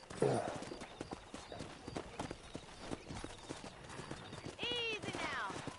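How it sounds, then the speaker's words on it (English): Horses in the Red Dead Redemption video game, hooves clip-clopping steadily close by before a loud neigh near the end, with characters speaking over the hoofbeats. "Let's see if we can't wrangle some horses."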